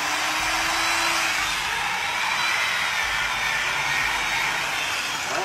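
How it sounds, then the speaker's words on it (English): A running angle grinder, powered by electricity generated from trees, whines steadily and loudly at close range with a broad hissing roar for the whole stretch. "we will see if we get now an angle grinder to run"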